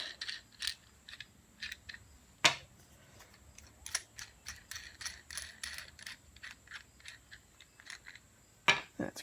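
Bolts are worked off a dowel sanding jig, a series of faint metallic clicks, ticks and ratcheting rattles at irregular intervals, with a few sharper clanks standing out in a quiet room.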